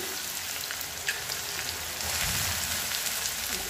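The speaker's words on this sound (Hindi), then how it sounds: "कढ़ाई में तेल हो गया गरम उसमें डाल देंगे थोड़ा सा जीरा और डाल देंगे प्याज को भी" Cumin seeds and onions hiss and crackle in hot oil in a kadai, a close, steady sizzle that swells slightly partway through, with faint stirring and no talking.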